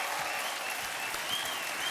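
A studio audience on a TV quiz show claps steadily for a contestant who has just won a large prize, with dense, even applause filling the whole short stretch.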